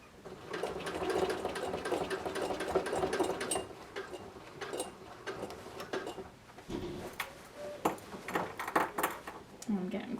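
A sewing machine runs in steady stitching bursts while bias tape is sewn around the curved neckline of a quilted vest, with soft pauses and fabric handling between runs, under a talking voice.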